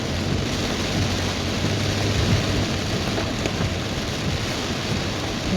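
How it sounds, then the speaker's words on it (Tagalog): Steady, dense rain pours on a foggy mountain road, Naguilian Road in Baguio City, at dusk. The wash of noise stays even and continuous throughout, with no voices. "Umuulan."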